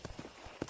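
Horse hooves clip-clop in a PS4 video game, a quick run of soft, close hoofbeats on hard ground heard alone.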